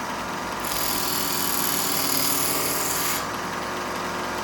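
A belt grinder fitted with a surface conditioning belt sands a knife blade, giving a steady abrasive hiss and whir over the motor that swells louder for a few seconds during a pass and then falls back.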